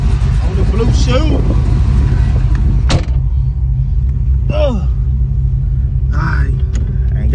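A car's engine rumbles low and loud from inside the cabin as it pulls out into traffic, with a sharp click or knock and a voice talking over the drone.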